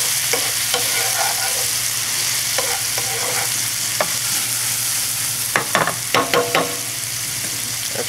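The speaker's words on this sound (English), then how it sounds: "I'm going to hit this with a little bit of white wine. We'll let that cook out," Shallots and garlic in a pan after a splash of white wine, sizzling and frying steadily, with a few stirring clinks and scrapes of a utensil toward the end; no one speaks.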